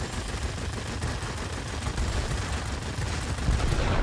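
Rapid aircraft machine-gun fire from a Yak-1M fighter in World of Warplanes, continuous dense rattling bursts over a steady engine roar, loud and close for the whole stretch.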